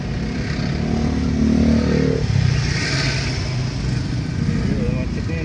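Traffic jammed at a narrow intersection beside a petrol station on the eastern highway between Palembang and Betung, with motorcycles and cars idling and revving close by while people talk over the steady engine noise.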